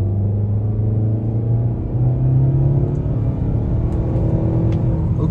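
A 2023 Nissan Altima SR's 2.5-liter four-cylinder engine pulls uphill in second gear, with a steady droning hum whose pitch climbs slowly as it accelerates, heard loud from inside the cabin with no talking.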